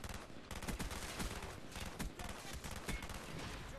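Rapid gunfire from a video game firefight, quick crackling shots in dense irregular bursts at moderate volume with no talk over them.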